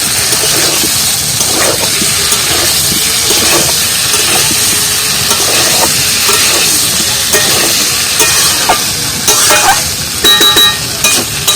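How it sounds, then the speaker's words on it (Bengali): Cauliflower and potatoes, both fried beforehand, stirred and fried in a spice paste in a pan. A steady sizzle runs with repeated scraping and stirring strokes, fairly loud and close, with no talk. "আর একটু ভালো করে নাড়িয়ে একটু ভেজে নেবো ভালো করে"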